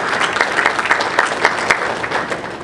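Conference audience at the SAE World Congress in Detroit gives loud, close applause, a dense crackle of many hands clapping with small pulsing swells, continuous throughout.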